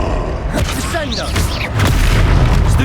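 A Descendo spell slams into a foe in the game Hogwarts Legacy, a heavy booming impact with rumbling debris, mixed with whooshing spell effects and shouted combat voices.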